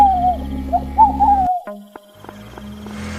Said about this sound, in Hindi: दूर कहीं से उल्लू की आवाज आने लगी थी।